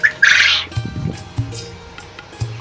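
Several loud, harsh squawks from European quail burst out at the start, followed by softer scattered calls and faint rustling.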